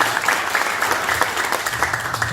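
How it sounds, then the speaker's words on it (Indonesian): Loud, dense applause from an audience at a gathering in Karawang, continuous clapping filling the whole stretch without talk. "Tepuk tangan buat mereka berdua."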